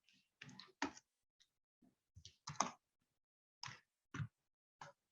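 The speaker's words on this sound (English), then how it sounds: "I'm gonna just type it down here." Keys being typed on a computer keyboard, scattered clicks and short bursts with pauses between them, close and quiet, no talking.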